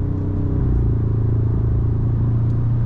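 A Ford Ranger Raptor 2020 with a 2.0-litre twin-turbo diesel running at full throttle, a loud, steady low engine drone with a rough clattering texture and no letup, recorded close up from inside the cab.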